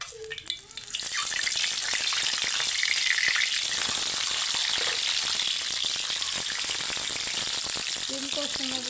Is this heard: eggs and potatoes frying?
yes